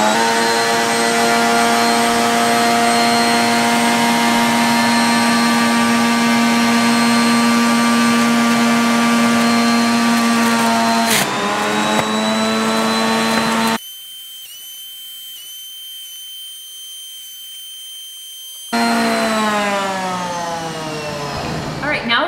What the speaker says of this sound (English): we're gonna do the centrifugal juicer now